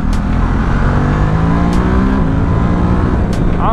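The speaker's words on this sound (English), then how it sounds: "Just kind of revving through the power band and not getting it to redline with some partial throttle stuff." A 2018 Ducati SuperSport S motorcycle engine revs steadily through its power band at partial throttle, a loud continuous drone with shifting pitch, no voices.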